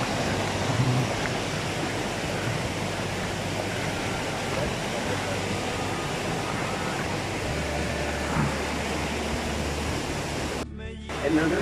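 Broadband rushing water of the Orlé river runs steadily throughout, loud and close with a constant roar, ending in a brief dip and burst near the end.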